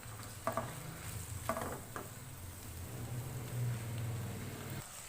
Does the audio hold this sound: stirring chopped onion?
yes